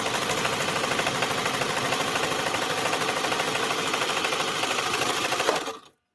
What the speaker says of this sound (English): When I turned it on, it was like a brand new sewing machine.